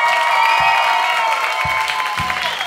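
Audience applause fills a fight tournament cage arena, a continuous loud wash of clapping and crowd noise with a few sharp bursts, no clear talking.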